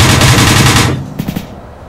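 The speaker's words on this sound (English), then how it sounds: "Yeah, you're taking fire from somewhere, I don't know." A rapid burst of automatic gunfire in the military shooter Arma 3, loud and close for about a second, then a few sharper scattered shots fading out.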